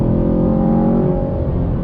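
A 2019 Chevrolet Camaro SS V8 revs hard under acceleration, a loud, steady, close engine roar that holds throughout with no break.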